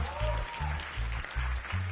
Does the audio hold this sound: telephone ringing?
no